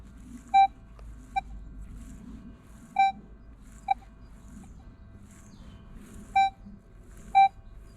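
A Minelab X-Terra Pro metal detector sounds short, clear electronic target beeps, six in all at irregular intervals, some doubled, over a quiet outdoor background with faint sweeping noise and no talk.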